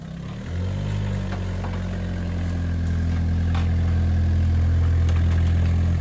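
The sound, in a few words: Opel Corsa car engine running while towing a Krone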